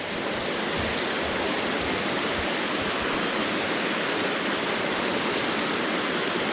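Creek water runs along a highway toward the Little Sioux River, a tributary of the Missouri, making a steady, dense rushing flow that holds even and constant throughout, with no voices.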